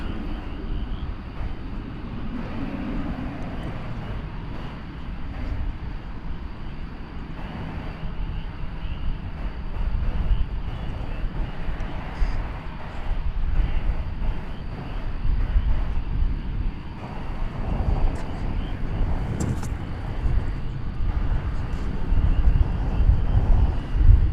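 An American Airlines 737-800 departs DFW Airport at night bound for McAllen, Texas, its jet engines a long broad rumbling roar that builds slowly and grows louder toward the end.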